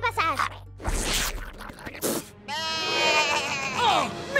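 Cartoon goat bleating in a French-dubbed animated show, a wavering, nasal cry that comes in after a few sharp effects and overlaps an animated voice speaking.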